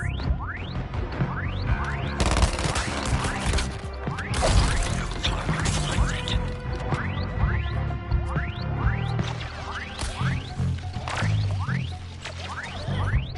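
Rapid gunfire and impacts from a Suicide Squad: Kill the Justice League video game battle, aimed at a cannon's weak spot, with dense repeated shots, whooshes and crashes over a loud, busy game soundtrack.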